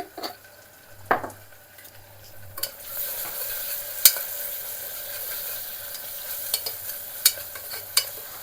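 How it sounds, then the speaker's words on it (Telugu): Chopped onions with ginger garlic paste and turmeric fry in a pan for a chickpea curry. A soft sizzle builds steadily beneath sharp clinks and scrapes of a spoon stirring against the metal pan. "అల్లం వెల్లుల్లి పేస్ట్ కొద్దిగా పచ్చివాసన పోవాలి. కొద్దిగా ఫ్రై అయితే సరిపోతుందండి."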